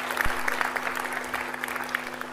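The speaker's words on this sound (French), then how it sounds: "Et vous pouvez l'applaudir, tout à fait" Audience applause at a mayor's New Year wishes ceremony, steady clapping from many hands heard in a hall with a faint low hum beneath.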